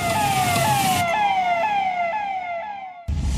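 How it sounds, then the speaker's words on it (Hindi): A police jeep speeds away with its siren on full, a loud wailing tone repeating in quick falling sweeps, heard close and steady before cutting off abruptly near the end. "पुलिस जीप में लोड करती है और तेजी से फुल ऑन सायरन के साथ निकल जाती है"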